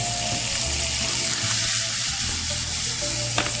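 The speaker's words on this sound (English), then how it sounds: "We're deglazing this pan." Onions sizzle loudly in an oiled pan being deglazed for steak au poivre, a dense, continuous crackling hiss with faint stirring scrapes underneath and no talk.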